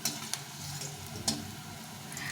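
Green banana kofta balls fry in a little oil over medium-low heat, giving a soft steady sizzle broken by a few crisp pops and ticks.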